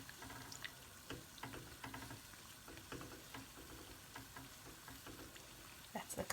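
Caribbean fried dumplings deep frying in a pot with plenty of oil, a steady close crackling sizzle with scattered pops and bubbling throughout.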